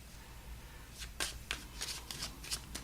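A tarot deck is shuffled and cards are pulled in a series of soft, crisp riffling and flicking bursts, quiet and close up.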